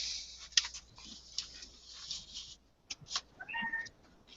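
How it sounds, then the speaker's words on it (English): A cat meows several times in short, fairly faint bursts, with light ticking and tapping sounds in a quiet indoor space. "It is down, that's why it's meowing."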